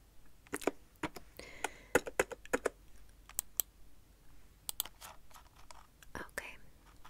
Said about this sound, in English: I'm a little bit of a slow typer.